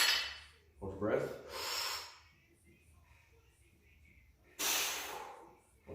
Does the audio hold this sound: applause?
no